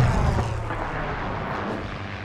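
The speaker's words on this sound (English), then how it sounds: "The two totally different power plants, the two different distinct sounds" Aircraft engines of a light airplane in flight give a continuous low, rough roar with strong bass rumble, fairly loud and steady throughout.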